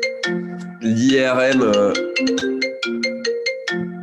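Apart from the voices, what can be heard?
phone ringtone ringing on a Mac computer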